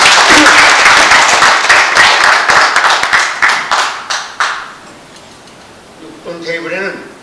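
An audience at a Korean civic gathering with banquet tables applauds in dense, loud clapping that thins and fades after about four seconds, followed by a quiet gap and then a voice starting to speak.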